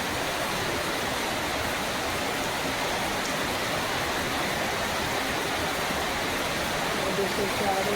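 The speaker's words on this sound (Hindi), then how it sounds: "देखिए चारों तरफ खूब बारिश हो रही है।" Heavy rain pours steadily all around, a dense unbroken hiss with no pauses, close and loud throughout.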